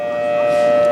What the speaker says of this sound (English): What you're hearing there is the all clear siren.